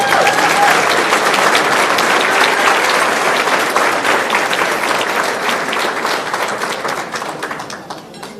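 Audience applause for a junior Girl Scout troop at a Lions district awards event, dense sustained clapping from a crowd that holds steady and then slowly thins out toward the end, no talking over it.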